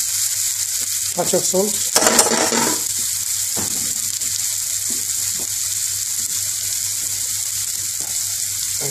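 Onions and green chili fry in a pan for Bengali-style tarka dhal, a continuous hiss and sizzle with a louder, crackling burst early on as they stir. Someone speaks briefly over it.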